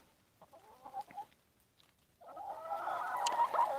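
Chickens cluck nearby in short soft bursts, then a denser, louder run of clucking and squawking builds toward the end, with no talk over it.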